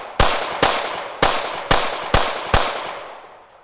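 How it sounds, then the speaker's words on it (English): Six loud, sharp pistol shots from a Shadow Systems CR920XP micro-compact, fired one at a time at a steady, unhurried pace, each with a short decaying tail, and no voices. "Again, first shots out of the gun."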